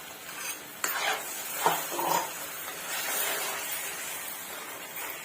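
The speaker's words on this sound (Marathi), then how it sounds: "आता मी त्यात पालकची प्युरी घालते आणि प्युरी सुद्धा आपण अगदी 5 मिनिटं परतून घेणार आहोत" Spinach puree sautéing in masala for dhaba-style palak paneer, a soft close sizzle with a few spoon scrapes and stirring knocks against the pan.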